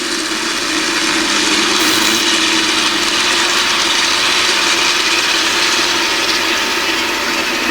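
Midget race cars roar at a dirt raceway during a green-flag start, a dense, continuous, loud engine drone filling the whole stretch without pause.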